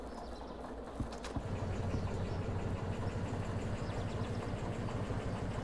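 A locomotive engine in the train-simulation game Derail Valley revs up, a loud, steady low-pitched drone that thickens after a brief knock and holds for the rest of the stretch.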